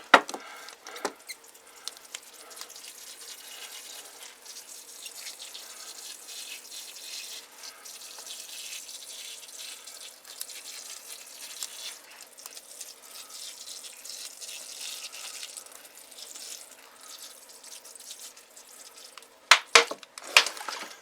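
Pop bottle fitted with a small sprayer attachment misting water onto pepper seedlings: soft, hissing spray sounds that come and go quietly for about twenty seconds, with a few sharper clicks and spritzes at the start and end.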